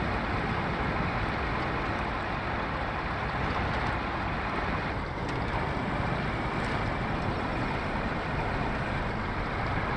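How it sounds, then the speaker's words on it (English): In the SnowRunner video game, an RNG WL500 wheel loader drives through water, making a steady, dense rushing wash with engine rumble that holds unbroken and loud throughout, without speech. "It's cool to see how capable this is, even going through the water and everything as well."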